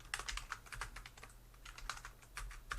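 Rapid, irregular keystrokes on a computer keyboard, close and crisp over a low steady hum, with no one talking.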